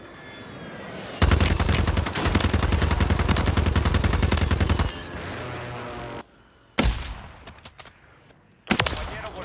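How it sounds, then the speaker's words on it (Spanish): Rapid automatic gunfire from a Call of Duty match bursts in loud and dense for several seconds, then cuts off, followed by two shorter sharp bursts of shots after brief pauses. "Aquí hay unos tiros."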